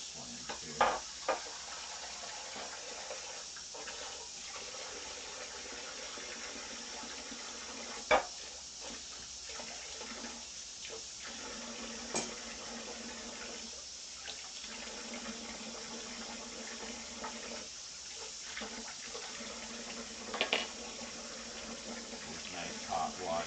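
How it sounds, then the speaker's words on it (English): Hot water runs steadily from a kitchen tap into a sink, a soft continuous rush with occasional knocks and clatter of dishes, fairly faint and close. "Nice hot water."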